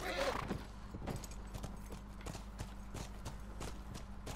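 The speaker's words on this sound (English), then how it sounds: "The horse scared the bejesus out of me." Horse hooves clip-clop in a steady rhythm in The Last of Us Remastered, with a neigh or snort near the start, close and moderately loud over a low background hum.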